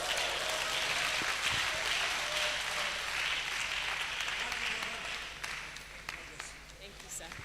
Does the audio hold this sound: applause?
yes